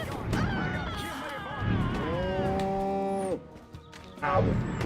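Cows in the Destroy All Humans! video game moo loudly while being abducted, with long drawn-out bellows in close succession and a brief gap before another rises near the end.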